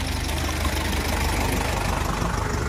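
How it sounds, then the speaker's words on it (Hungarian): Tractors rumble steadily near a garden, producing a dense, continuous low engine drone at moderate level with no speech. "Közben jönnek a traktorosok is."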